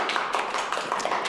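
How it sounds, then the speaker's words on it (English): A short burst of audience applause during a live speaking coaching session, dense overlapping claps at moderate volume, brief and continuous. "Let's give her a round of applause"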